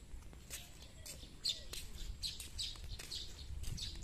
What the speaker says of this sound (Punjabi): ਇੱਥੇ ਸ਼ਾਇਦ ਕੋਈ ਚਿੜੀ ਉੱਡੀ